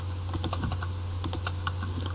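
Quick bursts of clicking keystrokes on a computer keyboard as form fields are filled in, close and clear over a steady low hum, no voices.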